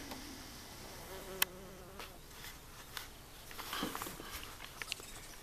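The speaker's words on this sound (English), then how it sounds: "Plus now we got like a wasp here." Honeybees and a wasp buzz around feeders outdoors, a faint, steady droning hum lasting throughout with a few small clicks and knocks, no voices.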